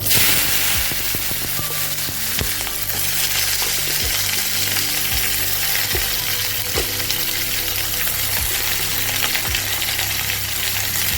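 Nigella seeds crackle in hot mustard oil as vegetables fry for a bitter gourd curry, a loud, dense, continuous sizzle up close with occasional sharp pops and stirring knocks.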